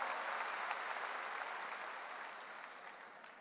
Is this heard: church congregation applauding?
yes